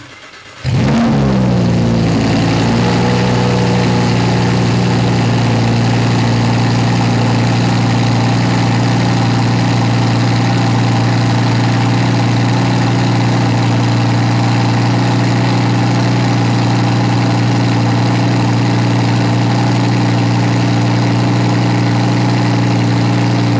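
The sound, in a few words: Lamborghini Huracan EVO V10 exhaust in Corsa mode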